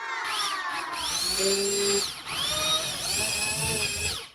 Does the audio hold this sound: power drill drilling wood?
yes